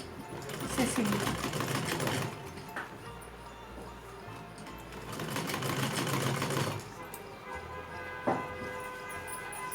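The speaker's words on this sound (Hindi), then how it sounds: "इसे सिल लेंगे।" A sewing machine stitches a small summer dress for a Laddu Gopal idol in two loud close bursts of rapid whirring, separated by a quieter pause with a brief clunk.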